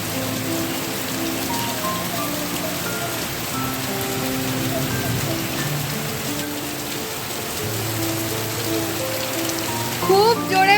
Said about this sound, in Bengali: পুরো চারিদিকে পুরো পুরো ঝমঝম করে বৃষ্টি পড়ছে